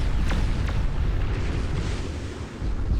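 Torpedoes explode in the strategy game Beyond All Reason, a heavy rumbling boom with a couple of sharp cracks early on, rolling on as a dense, loud low roar through the whole stretch.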